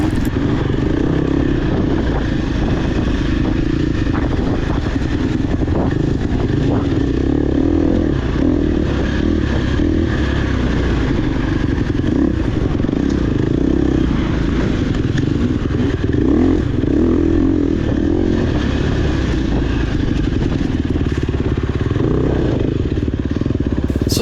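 A dirt bike in a 50B class off-road race at Badlands, Vici, Oklahoma, held at wide open throttle, gives a loud continuous high-revving engine drone with rattling and clatter from the rough course throughout.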